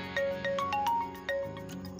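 A phone ringtone melody for an incoming call plays on a smartphone showing a custom caller screen: a string of short, bright tonal notes in a steady pattern, loud and close, with no talking.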